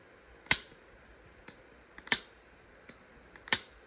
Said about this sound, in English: I don't know if that's just the way the button sounds when it comes through.